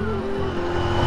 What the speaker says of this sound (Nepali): कति कुदाउनु क्या मेरो बाइक, अफ रोडमा माया लागिसक्यो